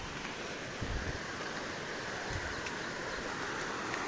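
Steady rushing water flowing under a village bridge beside farm fields in the Konkan, a constant broad wash of flow heard from nearby with no talking.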